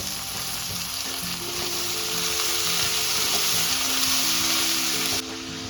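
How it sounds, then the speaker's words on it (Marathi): Sprouted moth beans (matki) sautéing in hot oil in a pan, with a steady, dense sizzle and frying crackle that continues throughout, and faint stirring sounds underneath. "आता आपण हिला अगदी व्यवस्थित परतून घ्यायचं आहे तेलामध्ये।"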